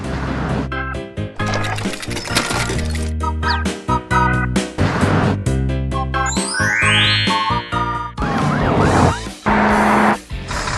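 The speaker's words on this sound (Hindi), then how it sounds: "जैसे ही सायरन की गूंज सुनाई देती है" A police car siren wails in a cartoon about a rescue convoy of an ambulance, tow truck and cement mixer freeing a stuck truck, sounding loud and close over busy music and crashing effects.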